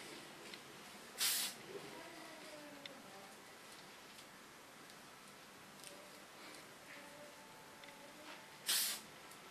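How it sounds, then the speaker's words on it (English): Two short bursts of Lakme hairspray hiss from a can onto a short tattoo-style haircut, one early and one near the end, each lasting about half a second over a quiet room. "now with a wonderful hairspray of Lakme"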